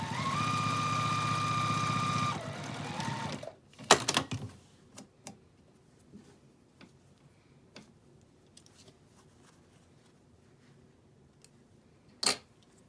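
A sewing machine top stitches a quilted Christmas stocking lining, a steady close mechanical whir for about two seconds that winds down, followed by scattered soft clicks and handling noises.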